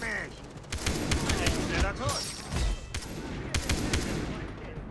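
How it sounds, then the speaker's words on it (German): AK rifle fire in the video game Far Cry 3 comes as a series of sharp, loud single shots spread across several seconds, with voices mixed in underneath. "Boah, ich liebe es mit der AK zu snipern."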